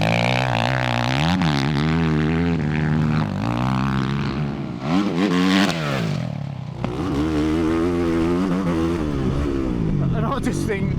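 A 450 dirt bike engine revving up and down repeatedly with rising and falling pitch and popping, loud and close, with a brief drop in the middle before climbing again.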